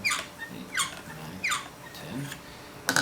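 A KME knife sharpener squeaks sharply on each stroke along a Chosera stone, four loud rising squeals spaced at an even rhythm and heard up close with no voice over them.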